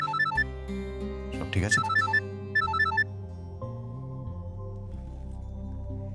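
A phone rings late at night with a bright, repeating electronic ringtone melody, loud and close, and a voice speaks briefly over it.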